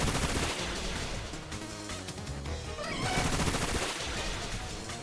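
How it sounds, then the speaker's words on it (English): Rapid bursts of a Bullet Seed attack in the Pokemon Violet video game, a dense, loud barrage of popping impacts layered over constant battle music, with a brief swelling flurry midway. "We do bullet seed again."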